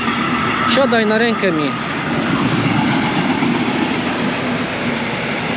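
A train rumbles past beside a railway line in Germany, a steady broad roar that rises and lingers while a person talks close by over it.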